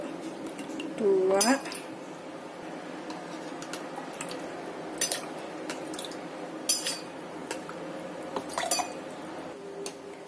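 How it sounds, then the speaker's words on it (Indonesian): A metal spoon clinks and taps against a bowl over and over while water is measured out spoonful by spoonful in a home kitchen. The light, irregular clinks come close up as a woman counts aloud. "Saya takar dulu pakai sendok ya."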